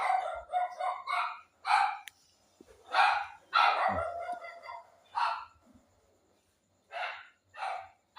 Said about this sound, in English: My dog actually interrupted me.